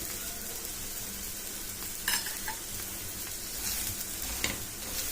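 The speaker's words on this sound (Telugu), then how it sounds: "ఇప్పుడు కొద్దిగా ఆయిల్ వేసుకుంటూ రెండు వైపులా కాల్చుకొని పెట్టుకోవాలి" An egg paratha fries in a little oil on a pan, giving a continuous close sizzle with occasional crackling pops and light spatula sounds, and nobody speaks.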